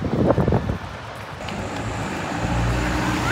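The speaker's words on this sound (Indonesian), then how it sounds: "anginnya sangat kencang banget ya." Strong wind blowing through the streets of Medina near hotels, a steady loud roar of gusts buffeting the microphone, with a faint low rumble of passing traffic underneath and no talking.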